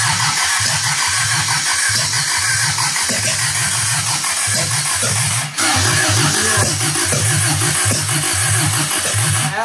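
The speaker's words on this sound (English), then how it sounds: "Backfired out the carb a little bit." A 1972 Toyota Celica with an 18RG engine cranks with a steady rhythmic churn, loud and close, with a brief uneven break partway through as it backfires through the carburetor.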